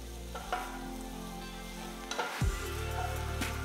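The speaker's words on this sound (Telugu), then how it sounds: "ఇందులో 2 టీ స్పూన్ల తరిగిన వెల్లుల్లి, 2 టీ స్పూన్ల తరిగిన అల్లం వేసి వేయించాలి." Chopped garlic and ginger sizzle in about a tablespoon of hot oil in a pan, a close, steady frying hiss with stirring scrapes and a louder burst of sizzle midway; no speech.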